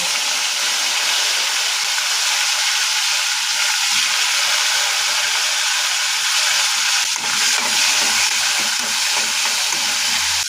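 Tomato pieces fry in a pan for a tomato chutney, giving a loud, dense, unbroken sizzle and hiss from start to finish. A brief stirring rustle comes near the middle, and there is no talk.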